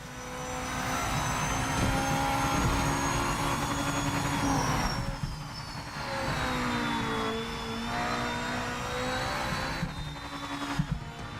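Hypercar engine in a racing video game, a sustained loud drone with pitch sweeping downward as the car downshifts, a sharp blip near the end, no talking.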